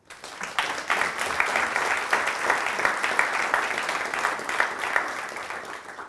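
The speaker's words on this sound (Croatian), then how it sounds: "Ja mislim da te žene zaslužuju jedan veliki aplauz." Sustained audience applause at a patients' forum, a dense steady patter of many hands clapping throughout, fairly close and loud, with no talk over it.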